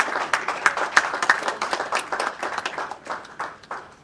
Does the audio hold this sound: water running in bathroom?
no